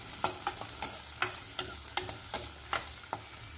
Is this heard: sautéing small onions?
yes